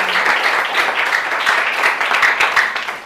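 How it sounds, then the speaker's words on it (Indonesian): Students in a classroom clap for a classmate who has just presented at the front. The close, bright clapping comes from a modest group and runs in a busy, slightly uneven flurry that fades at the end. "tepuk tangan buat temannya dulu."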